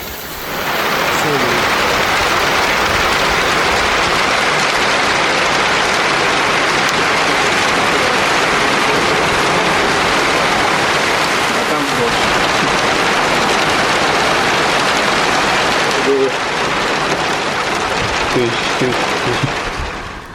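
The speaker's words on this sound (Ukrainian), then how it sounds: "Там дождь, да?" Steady rain falls throughout, a dense continuous patter heard while waiting at a bus stop before a gravel-bike ride on clay roads, with voices talking faintly underneath.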